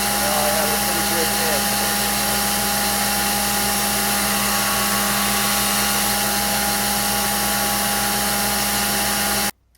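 A belt grinder grinds a bevel into a knife blade with a loud, steady whine and harsh abrasive hiss that holds for nearly ten seconds before cutting off abruptly.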